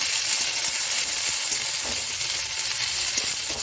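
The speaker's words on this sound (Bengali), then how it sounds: "লঙ্কা ক্যাপসিকাম কমপ্লিট হয়ে গেল দেওয়া। এবার একটু নাড়িয়ে নিই" Capsicum and green chillies sizzle steadily in a hot pan for savoury semolina while being stirred, a dense continuous frying hiss with light scraping, close and alone.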